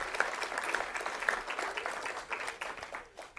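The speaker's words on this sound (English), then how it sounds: "Let's give a round of applause." An audience at a commemoration event gives a round of applause, a fairly close, continuous burst of many hands clapping that stays lively throughout, with a few louder claps standing out.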